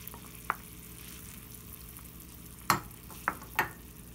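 Minced meat and tomato juice fry in a pan with a soft, low sizzle, broken by a few sharp metallic clinks of a spoon against the pan.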